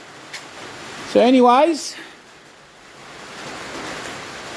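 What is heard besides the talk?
heavy rain pouring outside a shed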